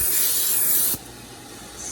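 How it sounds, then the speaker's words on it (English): Cooking oil sprays into a pan in a short, sharp hiss lasting about a second that stops abruptly, leaving a quieter kitchen background. "I'm just gonna spray oil"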